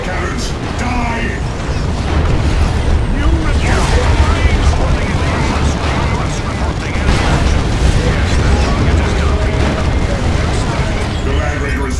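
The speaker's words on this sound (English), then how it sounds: "Firing the bombardment cannons" Bombardment cannons fire during an Imperial Guard battle in Warhammer 40K Dawn of War II Retribution. Heavy booms and blasts pile up in a dense, loud barrage, with voices speaking over the noise.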